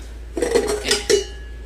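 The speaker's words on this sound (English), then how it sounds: "We're going to take our mixing bowl." A mixing bowl is picked up and set down, giving a few brief clattering knocks and a short ringing clink, close and alone.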